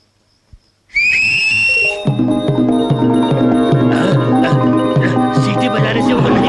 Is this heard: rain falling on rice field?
no